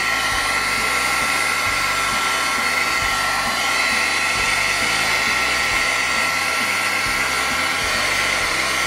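A hair dryer runs steadily at close range, drying watercolor paint on paper through a lace doily, a loud continuous whir with a faint pulsing hum and no talking.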